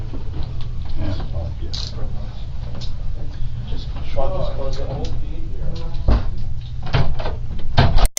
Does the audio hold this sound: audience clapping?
no